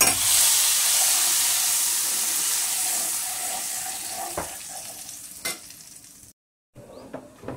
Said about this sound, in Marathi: या कढीमध्ये हा तडका घालायचा